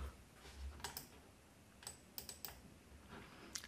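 Sparse keystrokes on a computer keyboard, a few quick isolated clicks and a short burst of taps, faint and close against quiet room noise.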